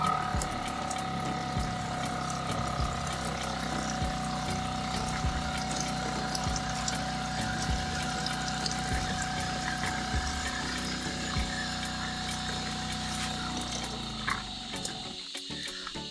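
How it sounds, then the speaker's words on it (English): A caravan shower water pump runs steadily, humming with a faint tonal whine under continuous running and spraying water, close and unbroken for the whole stretch before cutting out near the end. "this just releases the pressure and lets the pump know that it's time to start pumping the water"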